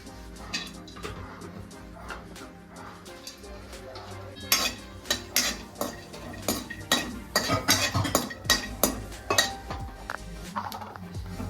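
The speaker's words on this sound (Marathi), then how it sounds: "नॉर्मली ऑइल घालायचं थोडस भाजून घ्यायचं" Fresh Konkan cashews roasting in oil in a pan, a sustained low sizzle under repeated metallic clinks and scrapes of a spatula against the pan, growing busier and more rhythmic midway, no talking.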